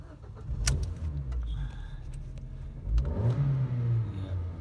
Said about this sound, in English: nice zippy engine, started on the button,